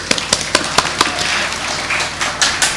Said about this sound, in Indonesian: Tepuk tangan untuk Nurul Ulum.